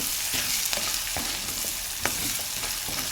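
Chopped vegetables sizzle and fry steadily in a hot pan for a curry, with a loud, continuous hiss broken by a few stirring scrapes and clicks.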